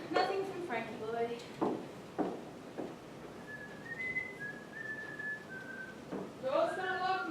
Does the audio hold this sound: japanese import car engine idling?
no